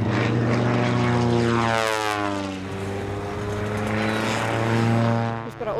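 A propeller airplane drones past at a town motor festival, its engine tone rising and falling as it flies by, loud and continuous with no talking over it.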